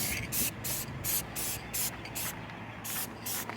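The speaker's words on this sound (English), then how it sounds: "I'm gonna say, hey, stop spraying." Short repeated bursts of hissing aerosol spray paint being applied for a crackle finish, about eight pulses in quick irregular rhythm, close and moderately loud over a low steady hum.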